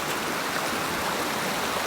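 A stream flows steadily at a rainy campsite, a continuous broad rushing wash of water heard up close with no other sounds over it.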